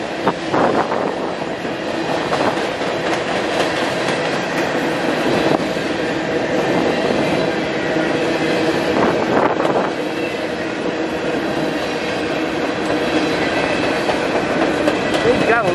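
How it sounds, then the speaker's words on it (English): A loud, continuous rumble of a passing CN SD60 freight locomotive pulling an eastbound local in Battle Creek, Michigan, with rhythmic clacking of wheels on the rails and occasional metallic squeals, fairly close. "A regular train being used for a local"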